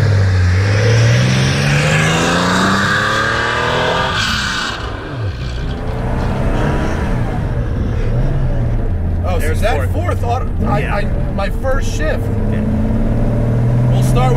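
A 1973 Porsche 914/6 engine hums low and steady as the car rolls downhill, with shifting rumble and some road noise, close and loud throughout.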